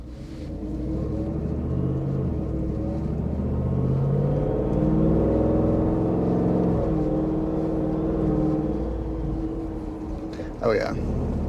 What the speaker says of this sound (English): Definitely sounds like a supercharger, that's for sure.